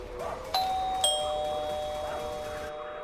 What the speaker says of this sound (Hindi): उस घर के दरवाजे पर लगी डोरबेल बजा देती है